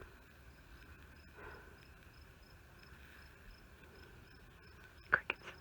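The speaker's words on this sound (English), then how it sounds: "Crickets." Crickets chirp faintly and steadily in a rhythmic pulse along an Appalachian Trail hillside with a wide view, with a brief sharper noise close by near the end.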